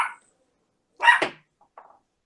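A dog barks sharply twice, with a short yip at the start and a softer whimpering bark trailing off, fairly close in a quiet room.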